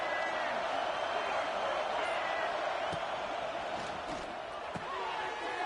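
A large stadium crowd at a football game keeps up a steady, loud roar of cheering and noise throughout, with a few sharp thuds breaking through the din.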